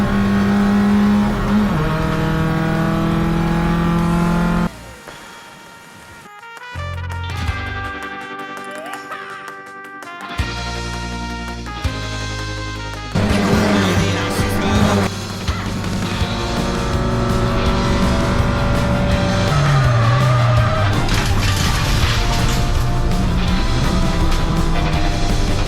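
A race car spins out in a game, its engine revving hard and tires squealing and skidding, loud and continuous with shifting engine pitch and a brief drop in the middle.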